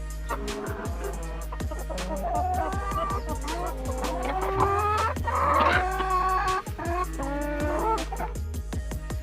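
Chickens on a poultry farm with laying hens cluck and call continuously, many birds overlapping at close range in a dense, busy chorus with no talking.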